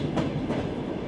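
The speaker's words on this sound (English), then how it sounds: "Then the train plunges into the darkness of a tunnel." A train rushes into a tunnel, a loud continuous rumble with a couple of swelling whooshes and clattering wheels, no voices.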